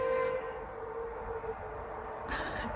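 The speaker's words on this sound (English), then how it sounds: "just going to wait for the train to pass to pass" A train passes nearby during an indoor knitting session, giving a steady rumble with a sustained tonal whine, and a brighter burst of rail noise near the end; no one speaks.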